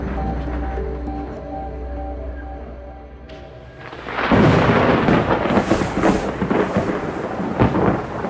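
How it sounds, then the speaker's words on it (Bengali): A thunder crash in a Kolkata night storm within an audio drama, a low musical drone giving way to a sudden loud, rolling thunderclap with crackling rain that carries on afterward. "বাজ পড়ার প্রচণ্ড শব্দে সাবুর ঘুম ভেঙে গেল"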